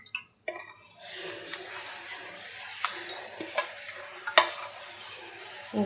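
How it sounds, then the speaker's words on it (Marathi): Oil goes into a heated kadhai for an onion tomato chutney, giving a quiet, low sizzle broken by scattered sharp clicks and light scraping. "चला तेल टाकून घेऊया आपण."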